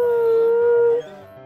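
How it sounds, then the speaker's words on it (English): A captive wolf at a wolf therapy program lets out a single loud, close howl, held steady for about a second before dropping off, with no voices. "Behold the howling therapist!"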